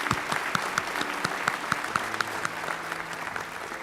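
An audience at a school district awards ceremony applauds students from Timber Creek Elementary, a steady round of clapping from a moderately sized crowd in a hall, with scattered distinct claps.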